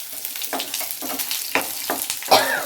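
Curry leaves and garlic crackle and sizzle in hot oil for carrot pickle, a close, steady frying hiss broken by several brief stirring scrapes and pops.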